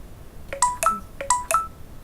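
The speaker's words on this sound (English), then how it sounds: "Excuse me, that was the phone. That was my phone." A phone gives off a short electronic notification jingle: two pairs of bright, tonal beeps in a quick rising pattern, clear and close, with no talk over it.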